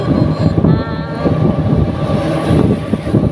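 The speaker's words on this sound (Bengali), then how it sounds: "অটোতে করে যাচ্ছি।" An auto-rickshaw heard from inside during a ride, its engine a loud, steady, close drone that carries on without a break.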